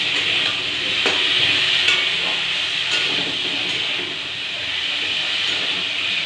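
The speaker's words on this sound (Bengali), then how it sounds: "আলু টমেটো হলুদ নুন ফোন দিয়ে ভাজছি।" Potato, tomato, turmeric and salt fry in a pan, a loud continuous hiss of sizzling oil close by with a few scattered clicks and stirring knocks, no voices over it.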